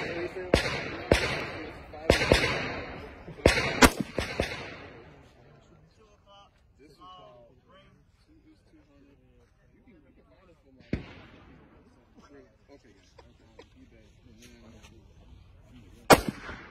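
Rifle shots at an outdoor marksmanship range during basic rifle training, several sharp loud cracks in quick succession early on, then quieter talk with a few more isolated shots later.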